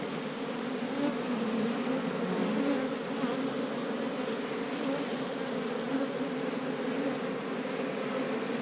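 A honeybee colony in an opened hive with brood and honey frames gives off a steady, dense buzz of many bees, close and continuous throughout, with no talk over it.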